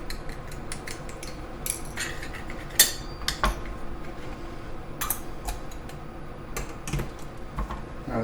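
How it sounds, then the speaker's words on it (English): A spoon stirring vinegar condiments in a small bowl makes light, irregular clinks and taps over a faint background hiss, close and fairly quiet. "Give it a good stir."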